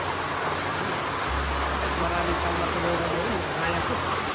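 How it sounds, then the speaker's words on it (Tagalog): Heavy rain roars steadily in a dense hiss, with a low rumble partway through and a voice speaking underneath. "Grabing ulan tay. Malakas po."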